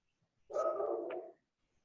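A single dog bark or short yelp comes through faintly in the background of an online council meeting call, one brief sound lasting under a second with no talk around it.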